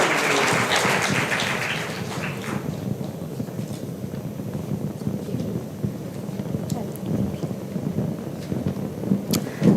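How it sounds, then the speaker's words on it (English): Applause breaks out from the audience at an HCLTech grant symposium in Chennai, a broad rushing clatter that is strongest in the first seconds and then settles into a steadier wash under murmuring voices and room noise. "can we have a huge round of applause?"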